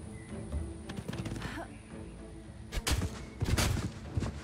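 Ranged units firing in Age of Wonders 4, a cluster of sharp, loud shot impacts and thuds in the second half over a busy game soundscape with no talk.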